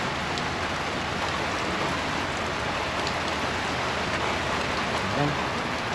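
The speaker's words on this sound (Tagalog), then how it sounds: "May kasamang konting hangin tong ulan ngayon." Steady rain falling with a little wind, a soft even patter and hiss at moderate distance, continuous for several seconds with a faint voice now and then.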